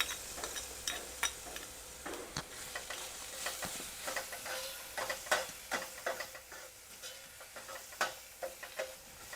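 Ginger garlic paste, hand-pounded in a mortar and pestle, frying with onions in a pan: a steady close sizzle broken by repeated scraping stirs and clicks, with no voices.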